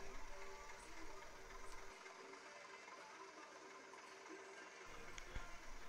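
Sound module in a Class 37 model diesel locomotive, number 37884, producing a steady low engine idle hum with a faint whine, continuous and fairly quiet throughout.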